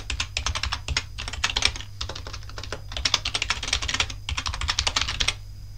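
A computer keyboard is typed on quickly at close range, dense bursts of crisp key clicks separated by short pauses, over a faint low hum with no voices.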